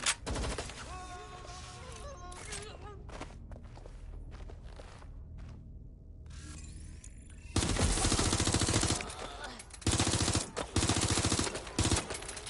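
Gunfire in Watch Dogs Legion, sparse shots and clatter giving way to loud sustained automatic bursts in several long volleys, with footsteps and movement between them.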